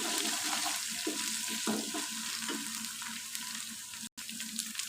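Ginger garlic paste and chicken fry in a pan for a desi chicken curry, a steady close sizzle with faint stirring scrapes and a brief dropout near the end.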